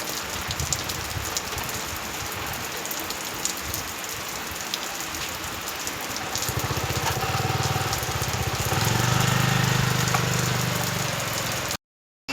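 Heavy rain pours steadily, heard from under a roadside shop as a dense, continuous hiss. A low engine hum builds near the end.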